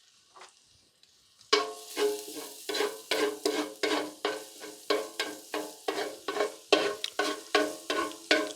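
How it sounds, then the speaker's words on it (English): Chimichurri of fresh herbs, mint, rosemary, lemon juice, hot peppers, salt and pepper is stirred in a hot pan, giving a steady series of rhythmic scraping swishes over a light sizzle, close and clear, after a quiet start. "Chimichurri is not normally cooked in a pan like this, but it's close enough."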